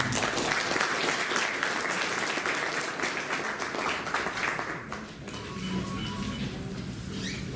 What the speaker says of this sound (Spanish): recibámoslo con un voto de aplauso al doctor Ramiro